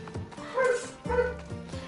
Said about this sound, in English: Why is my dog going nuts?